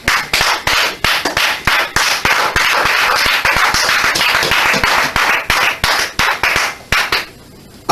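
A church congregation claps together in a loud, steady rhythm of sharp beats, then stops near the end, leaving a quiet tail.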